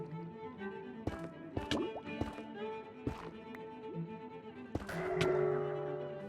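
Water flowing back into a cleared space in Minecraft during an ocean temple exploration, heard as soft, scattered drips and plops followed by a fuller gurgling fill near the end, fairly quiet and with no talk.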